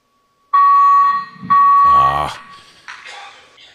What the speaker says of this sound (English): Judge is going to order that alarm turned off here in just a minute